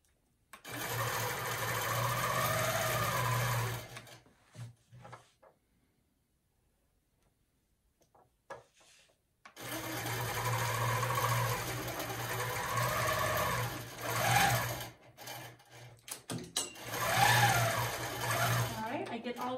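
A longarm quilting sewing machine stitches in rapid, steady bursts with its motor whirring, stopping for a quiet pause in the middle before running again in two more long stretches, close and clear.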